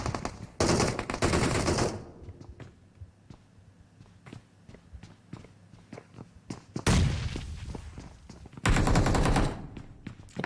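Gunfire in a video game rings out in two loud, rapid automatic bursts separated by a quieter stretch of scattered single shots and footsteps.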